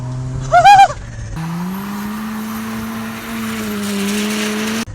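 A tuned Mazda FD3S RX-7 squeals its tyres in a short, loud wavering burst, then the rotary engine drones steadily under load, close and prominent, before cutting off near the end.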